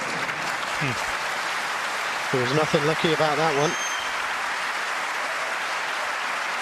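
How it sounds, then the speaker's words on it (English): A snooker crowd applauds a safety shot during a 2018 European Masters semi-final, a steady clapping wash that runs throughout while a commentator talks over it. "And the crowd really appreciating this safety play."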